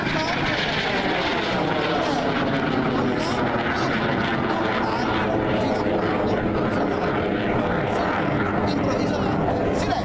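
Jet aircraft of the Frecce Tricolori aerobatic team rehearse at the 2014 Grado air show, making a loud, continuous engine roar with a shifting drone. An announcer talks over it.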